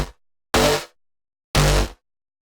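A nasty synth bass stab hits three times, a first one cut off at the start and then two full, loud, bright bursts about a second apart, washed in hall reverb with its low end cut.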